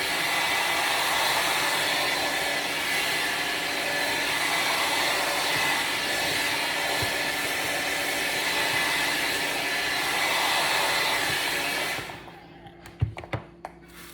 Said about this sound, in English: Now, while I'm blow drying her hair